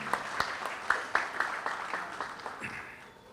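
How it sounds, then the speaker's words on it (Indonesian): A small audience at an Islamic religious study gathering claps lightly for a guest. The claps are sparse and separate, fairly faint, and they taper off over a few seconds. "Tepuk tangan untuk Bose"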